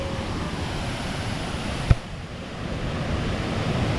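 The Somphamit (Li Phi) waterfall on Don Khon, Laos, pours down as a steady, full broadband rush of falling water, with a single sharp click near the middle.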